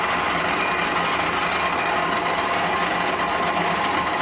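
A power drill bores a hole in a cut piece of metal on bulldozer parts, ready for tapping; a steady, loud, unbroken whir that runs alone throughout.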